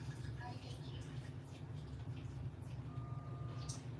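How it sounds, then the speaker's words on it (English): A loud truck rumbles steadily past near a gravel drive between two barns, its deep engine drone continuous throughout, with a steady reversing beep tone emerging late; voices murmur faintly underneath. "Oh, that loud truck scary."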